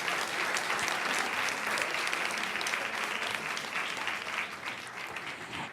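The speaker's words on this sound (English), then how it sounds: "Let's give a round of applause to all of our Shining Star recipients." Steady, full applause from a board of education meeting audience honoring Shining Star recipients, dense clapping continuing evenly throughout without talk.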